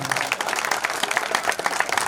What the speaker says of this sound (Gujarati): એક તાળીઓ યાર, બે મિનિટ તો પડવી જોઈએ